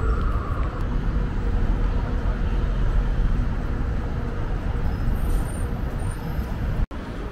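A tour bus moves through city traffic in Tbilisi, Georgia, with a continuous loud roar of engines and road noise close by that holds steady before a brief cut near the end.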